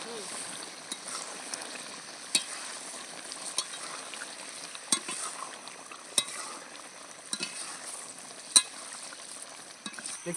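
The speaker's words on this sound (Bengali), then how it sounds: "একবার নেড়ে দিই নাকি?" A spoon stirring chicken kosha as it fries in a kadai: a steady soft sizzle with scattered sharp clicks and scrapes of the utensil against the pan, close and moderately loud, with no talking.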